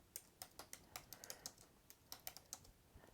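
Typing text on a computer keyboard: about a dozen quick, crisp key clicks in an uneven rhythm, close and fairly quiet with no voice.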